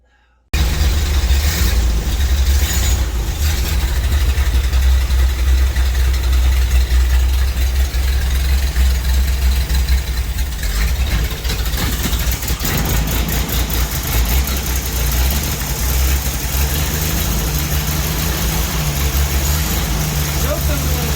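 A Jeep CJ7 engine runs steadily at idle with a loud low rumble while the choke is adjusted, and someone talks over the running engine throughout.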